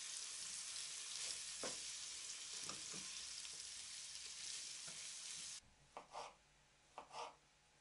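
Vegetables sizzle and crackle steadily in a hot pan, with occasional scraping stirs, then the frying turns muffled and quieter, broken by a few clattering knocks.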